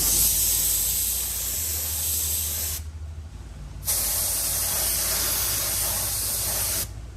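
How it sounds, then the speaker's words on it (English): Clear coat sprays in long, steady hissing bursts onto a repaired alloy wheel rim during a mobile rim repair, two continuous passes broken by a short pause, close and loud with no talking. "Let's get some clear coat over it."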